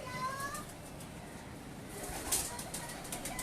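A female pigeon in a Pakistani pigeon-keeping loft gives soft coos amid rustling and a brief flutter, with faint voices and background noise around it.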